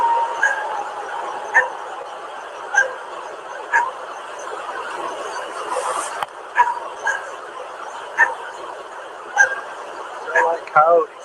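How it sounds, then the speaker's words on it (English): Coyotes yip and bark in repeated short bursts at night near a lake, faint and distant over a steady background hiss. "Coyotes. Yep."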